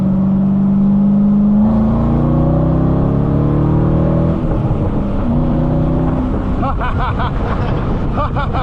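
Engine of a 2006 Chevrolet Corvette Convertible with a six-speed manual, heard loud from inside the car as it revs and accelerates, pitch climbing through the gear, dipping at a shift, then rising again.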